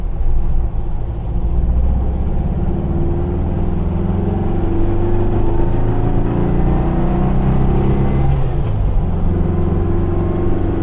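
A 1961 Porsche Super 90 with its 90-horsepower engine pulling in first gear at part throttle, a loud close-up rising drone that climbs steadily in pitch, with a brief shift-like dip near the end.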